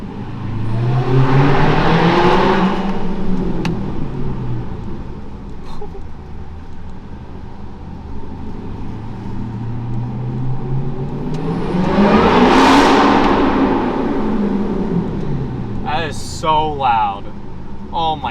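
A Dodge Hellcat engine roars close by, revving up and back down twice, very loud, with a short high chirping sound near the end.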